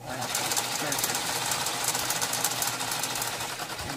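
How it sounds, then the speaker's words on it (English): A serger overlocks the edge of a sewing-project garment, its needles and cutting blade producing a steady, loud, rapid mechanical whir that runs continuously throughout without pause. "So I'm going to serge the edge."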